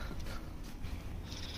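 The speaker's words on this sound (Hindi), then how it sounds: "देख सकते हो पीला कलर की ये वाली बिल्ली।" A yellow cat in front of a college purrs and murmurs close by, a soft, continuous low rumble at fairly quiet level with faint hints of a meow and no talking.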